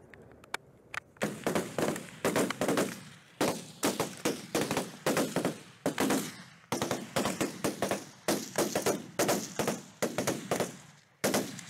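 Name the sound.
gunfire from rifles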